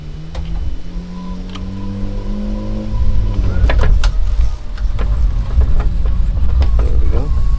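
A Mitsubishi Montero power antenna motor retracts the mast after the ignition is switched off, giving a steady electric whir that is then joined by louder mechanical clatter and vehicle rumble, close by.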